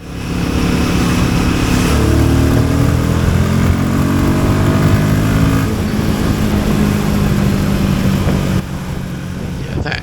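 Royal Enfield Guerrilla 450 motorcycle pulling hard in fourth gear from 40 to 60, its loud engine note rising steadily and close, then easing near the end, with a rider's voice over it.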